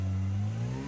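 An off-road rock crawler engine roars continuously at high revs at a rock crawling event while the tires spin and burn, loud and close, a steady sustained drone with no talking.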